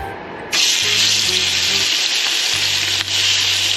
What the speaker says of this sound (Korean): 소리가 참 좋은데 이 튀기는 듯한 소리가